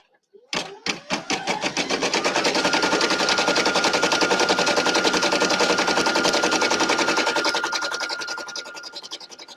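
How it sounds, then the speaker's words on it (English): Embroidery machine tacking two fabric pieces together, starting with a few separate stitches and then settling into a loud, rapid, steady mechanical rattle that runs close by and eases off near the end. "Now all we're doing is tacking the two of them together."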